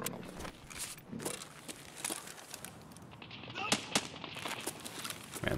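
Gunfire from a firefight in Escape from Tarkov, with scavs being shot some distance away: repeated sharp cracks and bursts, some single and some clustered, over steady background noise with someone talking.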